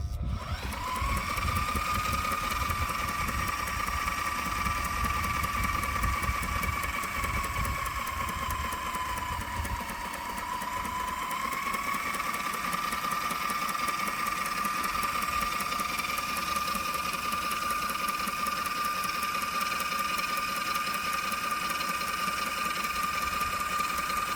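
A sewing machine stitches a heavy sailboat cover weighing three to four kilos of fabric, a loud, steady motor whir running continuously with a slight rise and dip in pitch.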